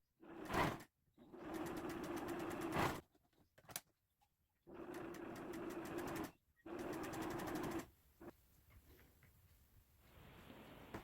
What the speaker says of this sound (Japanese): これは後でほどくので大きな針目で縫っておきます